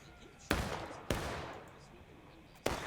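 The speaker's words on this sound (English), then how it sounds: "this artillery's just got to fire, whether they hit friendlies or not" Three heavy booming blasts of in-game artillery fire in the Civil War shooter War of Rights, each a sharp loud onset followed by a long rumbling decay, spaced unevenly across the stretch.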